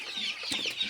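Chickens, Sonali breed, clucking steadily on a poultry farm flock of about five hundred birds, a dense layered chorus of calls heard close with no talk.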